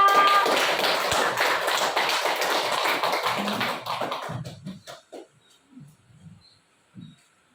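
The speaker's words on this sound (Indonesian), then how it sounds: "Berikan aplaus untuk kita semua." A class audience breaks into loud, close applause that fills the room for several seconds, then thins into a few scattered claps and soft shuffling before fading out.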